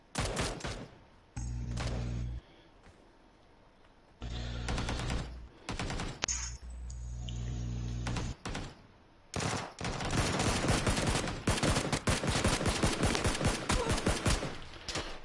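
Bursts of automatic gunfire from the battle-royale video game PUBG, with several rapid sustained volleys separated by short pauses, then a long dense stretch of continuous firing near the end, loud and with no talk.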